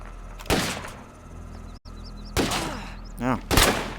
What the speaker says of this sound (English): Oh man, they're shooting.